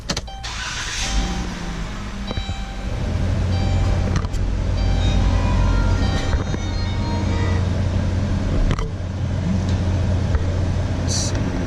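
Heard from the driver's seat, a 2017 Dodge Grand Caravan with 39,811 miles cranks after a few seconds of quiet interior clicks, then catches and settles into a steady, muted idle.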